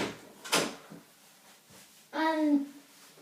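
A door in a home kitchen clicks open once, short and fairly quiet, followed by a brief voiced sound in an otherwise still room.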